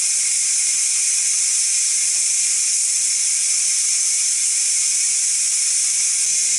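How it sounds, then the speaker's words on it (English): Ninja Foodi pressure cooker venting steam after cooking pot roast stew, a loud, continuous, even hiss that holds steady from start to finish with nothing else over it. "So I'm going to go up here and hit this release."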